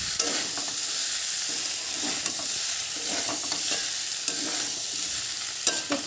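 Pumpkin and soybean curry is stirred and fried in a wok, giving a dense, constant sizzle with scattered scraping clicks from the spatula throughout, close and loud.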